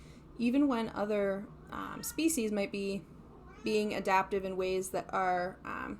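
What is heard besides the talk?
cat Daryl meowing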